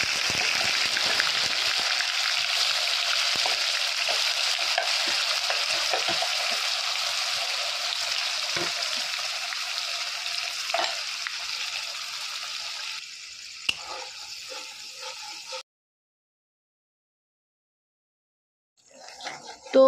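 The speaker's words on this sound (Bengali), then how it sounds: "তো এবার ভালো করে পেঁয়াজটাকে যতক্ষণ না কালার চেঞ্জ হয়, একটু ভাজা ভাজা হয়ে যায়, ততক্ষণ পর্যন্ত এটাকে ভাজবো।" Onion paste fries in a pan as it is stirred, giving a steady close hiss for about fifteen seconds before it cuts off. A short burst of sound follows near the end.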